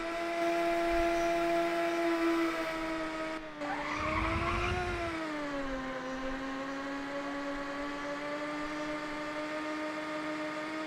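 A race car in the Ridge Racer Type 4 video game, its engine droning at a steady pitch that dips and rises through a tight corner, with a brief burst of tire skid noise midway.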